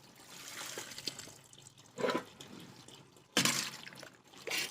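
Water drains and drips from soaked jujube fruits held in a colander, faint trickling with a few louder splashy bursts and quiet gaps between, close by with no talking.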